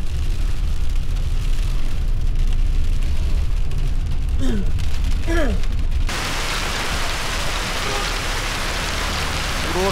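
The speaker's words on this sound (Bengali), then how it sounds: "আর এখানেই শিলাবৃষ্টি শুরু হয়ে গেছে" Hail falls on a mountain road near Ghum Monastery in Darjeeling, a dense, loud, steady patter and rattle of ice pellets, with brief rising whistles partway through.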